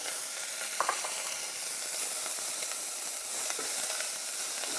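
Grated ginger and chopped onion sauteing in a pan, a steady close sizzle with occasional scrapes of stirring.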